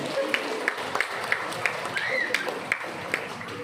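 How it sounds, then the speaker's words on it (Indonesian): Audience at a parenting event for a kindergarten in Manokwari claps in a brief, fairly steady round of applause under background murmur. "Tepuk tangan dong"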